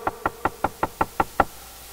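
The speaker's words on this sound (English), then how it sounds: "And they hear a knock at the door." Eight sharp knocks on a door in a steady, evenly spaced rhythm, fairly close and distinct against a quiet background, with no voices.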